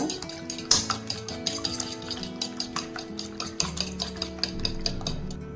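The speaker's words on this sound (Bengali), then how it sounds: "ডিমটাকে আমি ভালো করে ফেটে নেব" A utensil beats two eggs in a bowl while making drumsticks, clicking rapidly and steadily against the sides with a rhythmic clatter, close and clear, with a faint ringing tone underneath.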